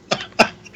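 Two short, sharp coughs sound close to the microphone, a fraction of a second apart, during a live-streamed radio talk show.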